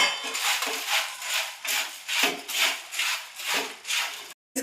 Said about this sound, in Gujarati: તો આપણે મમરાની અંદર નાખી દઈશું અને બધું મિક્સ કરી લઈશું.